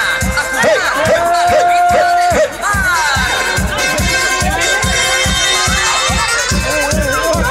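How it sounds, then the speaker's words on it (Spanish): A lively wedding crowd in Metates, Durango, Mexico cheers and whoops over steady rhythmic clapping, loud and continuous, with voices shouting throughout. "ese aplauso fuerte que se escuche. Palmas, palmas, palmas."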